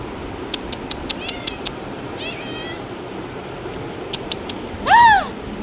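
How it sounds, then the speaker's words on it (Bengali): A cat gives one clear, close meow near the end after quiet rustling and a few light clicks, with a voice calling in the background. "কোথায় এই যে ম্যাও এখানে আসো"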